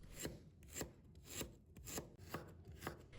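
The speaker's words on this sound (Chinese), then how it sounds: "再准备一块去皮的生姜，把它切成片" A knife slices a piece of peeled raw ginger on a board, six evenly spaced soft chops, close and quiet, with nothing else heard.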